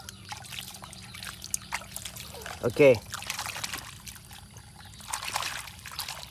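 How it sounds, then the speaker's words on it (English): Water pours into a container while cleaning toy vehicles, a small police motorbike model among them, giving a soft trickle and splash, with people talking over it. "Firstly I have to put some water."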